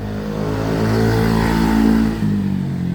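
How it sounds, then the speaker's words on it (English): Motorcycle engines revving and passing close by on a neighborhood street in Da Lat, Vietnam, a steady loud drone that swells in the middle before easing off. "You're gonna hear a lot of motorcycles."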